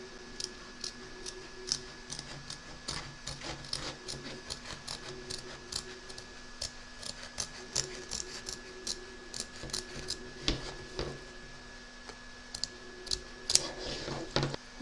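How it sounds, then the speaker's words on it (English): Scissors trim closely around the stitch line of an embroidered coffee placemat, making a long run of crisp, irregular snips and clicks close by over a faint steady hum. "turn your hoop over and trim around the edge of the stitch line"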